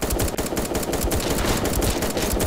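Rapid gunfire rattles nonstop in a Fortnite-like shooter game, a dense, loud, close stream of shots with no pause and no voices.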